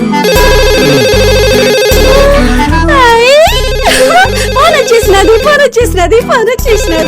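A loud electronic telephone ringtone plays a repeating melodic pattern, with sweeping musical effects and voices over it.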